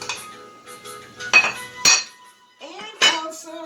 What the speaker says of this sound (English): I'm going to mix all the ingredients together.